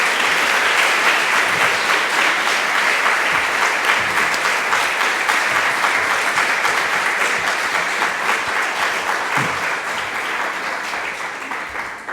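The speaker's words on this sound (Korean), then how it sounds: "큰 박수로 맞이하시면 감사하겠습니다." Sustained loud applause from a lecture audience welcoming a retiring professor of Reformed theology to the podium, steady and dense for about twelve seconds before easing slightly at the end.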